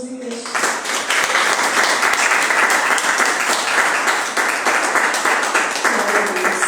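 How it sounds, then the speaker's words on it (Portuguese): A church congregation applauds steadily throughout, dense continuous clapping filling the room at a loud, even level, with a voice faintly heard near the start and end. "Aplauda o nome do Senhor Jesus, igreja."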